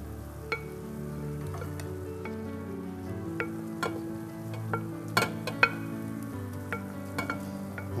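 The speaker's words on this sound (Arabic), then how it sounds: "نحركهم مع بعضهم مع شقفة زبدة أو سمنة" Onions and carrots fry in a pan with a knob of butter or ghee for a rib stuffing, giving a steady close sizzle broken by sharp clinks and scrapes of stirring.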